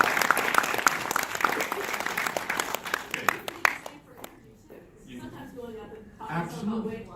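Audience at a 2018 event in Hawaii breaks into dense clapping for about four seconds, then the applause fades out as a voice starts talking.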